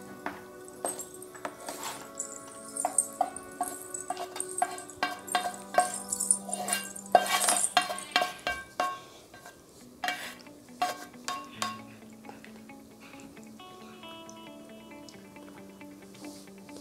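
Cooked tomatoes and onions are scooped from a pan onto a plate for a spicy tomato chutney, with a run of close metallic scrapes and clinks of a spoon against cookware that thin out into quiet kitchen background.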